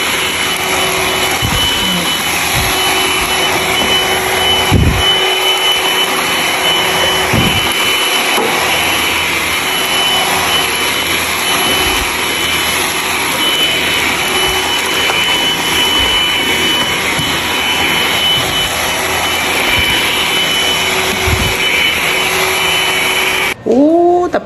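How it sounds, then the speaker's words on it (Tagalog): A vacuum cleaner running over a carpet during cleaning, a loud steady whine and drone held throughout with occasional thumps and a brief change near the end. "pwede na siya i-vacuum."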